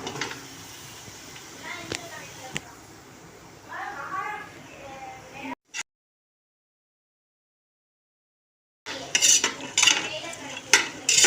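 Cauliflower with carrots, beans and peas being sautéed for vegetable biryani: a metal spoon scrapes and clinks in the pan over a soft sizzle, someone talks throughout, and the sound cuts out briefly before louder stirring resumes.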